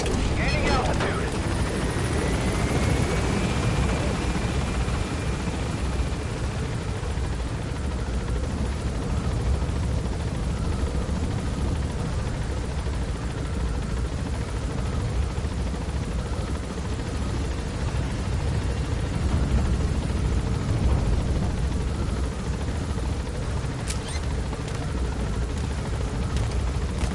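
Steady, loud rotor roar and whine of a helicopter gaining altitude in Metal Gear Solid V: The Phantom Pain, a continuous dense drone throughout.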